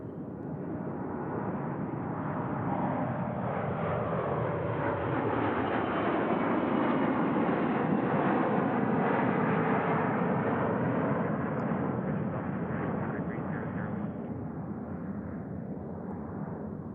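Airliner landing at Tucson International Airport on runway 12 in calm wind, a steady broad roar that swells through the middle and eases slightly toward the end, heard alone without talk.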